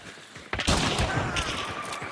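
After a quiet moment, a sharp gunshot bursts out in the video game Hunt: Showdown, followed by a rattling echo and a second fainter shot, fairly loud against a dim background.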